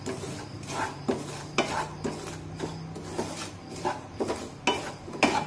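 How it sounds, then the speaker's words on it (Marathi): Semolina being stirred as it roasts in a pan over a low gas flame for jaggery sheera, a steady run of close scraping and tapping strokes against the metal, fairly quiet and regular with no talk. "त्यामुळे गॅसची फ्लेम अगदी मंद ठेवून हा रवा आपण एकसारखा असा हलवून घेऊ"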